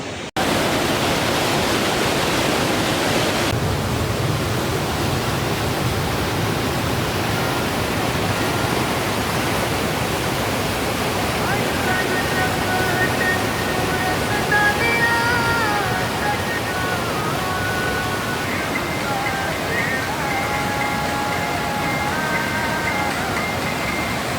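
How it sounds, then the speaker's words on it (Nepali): A waterfall on the Annapurna Base Camp trek pours in a steady, broad rushing roar that fills the whole stretch without pause, loud and close, with only faint traces of other sound. "यत्रो झरना छ यहाँ"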